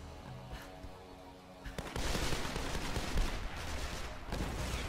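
Rifle gunfire in Tomb Raider multiplayer: a dense, continuous burst of loud shots that starts about two seconds in and keeps going to the end, with quieter game ambience before it.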